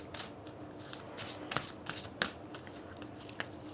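A deck of tarot-style playing cards is shuffled by hand in quick, crisp riffles and flicks, close and fairly quiet, with no one speaking.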